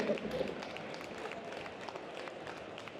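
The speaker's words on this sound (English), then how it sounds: "Keep the applause going." Applause from the crowd as panelists take their seats at a London Games Festival stage event, a soft, fairly distant patter of clapping that holds steady throughout.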